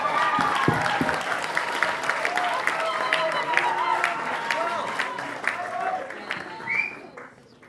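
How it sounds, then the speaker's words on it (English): Conference audience applauding at a peace conference opening ceremony, dense sustained clapping from a large crowd with some voices mixed in, fading out near the end. "Another round of applause"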